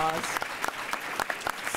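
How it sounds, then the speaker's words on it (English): An audience applauds a diplomacy panel honoring Ralph Bunche, a brief burst of scattered claps with a voice speaking at the start. "Let's give our panel a hand of applause."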